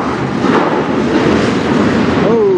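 A CN autorack freight train hauled by locomotives CN 8881 and CN 8017 rolls past close by in Sarnia, Ontario, a loud, steady rumble with a thin wheel squeal near the end.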